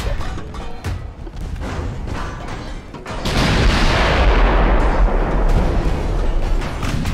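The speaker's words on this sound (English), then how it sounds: "Now we are firing HE." Naval gunfire in Ultimate Admiral: Dreadnoughts as a dreadnought fires HE shells at a modern cruiser: scattered booming shots, then a heavy sustained rumbling roar of a salvo, loud and dense with no voices.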